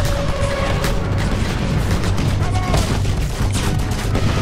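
Enemies fire guns at the player in Just Cause 2, a dense, continuous barrage of overlapping gunshots and booms, loud and close, with sharp cracks repeating throughout.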